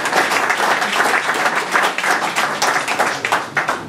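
Loud, dense applause from the floor of a general assembly meeting, many hands clapping together in a continuous, energetic wash right up close.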